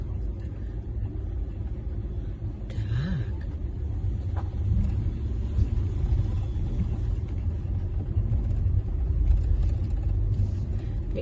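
Car engine while driving to a parking spot, a steady low rumbling drone of the moving car throughout, with faint small knocks and rattles inside the cabin.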